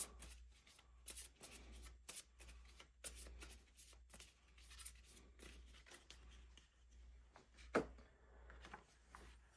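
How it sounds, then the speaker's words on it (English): Harry Potter Hogwarts Battle game cards are shuffled by hand, giving repeated riffling and riffle bursts with short pauses between them. The sound is quiet and close, and one sharper snap comes near the end. "So we'll give that a shuffle."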